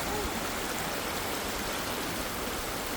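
Natural cave stream water spilling off into a river, a constant broadband rush of running water, close and steady throughout with no voices.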